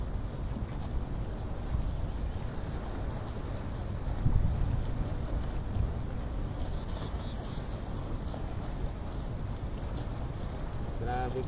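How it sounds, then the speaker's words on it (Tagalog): Strong wind blows by the water on a tenkara fishing outing, a constant loud rushing wash with microphone buffeting and a faint lapping undertone throughout. "Malakas lang yung hangin."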